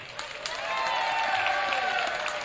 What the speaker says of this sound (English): Our next senior, round of applause, ladies and gentlemen,